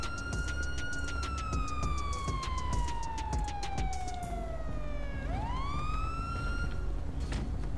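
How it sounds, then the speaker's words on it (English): A wailing police car siren in a video game slowly sweeps downward, then climbs back up, steady and continuous over background noise, with no talking. "We got a siren check, please."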